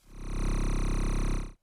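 A thick, layered synthetic tone swells in and holds steady with a fast pulsing buzz, then cuts off abruptly after about a second and a half.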